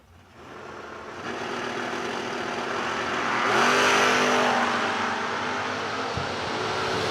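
A 1985 Chevrolet C10 and an Oldsmobile drag racing at a Lapeer, Michigan strip, engines roaring loudly and steadily with a rising rev sweep midway, then a brief gear-change dip before the drone carries on.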